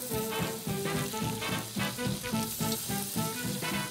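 Garlic stir-fries in a pan, sizzling and crackling densely and steadily at moderate loudness, close, with no voices.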